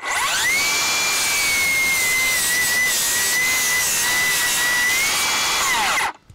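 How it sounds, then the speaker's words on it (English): A Milwaukee cordless rear handle circular saw rips through wood packed with framing nails, a loud steady high whine held for about six seconds before spinning down abruptly at the end. "Now anytime that you cut through that many framing nails, you know, the blade plays a role"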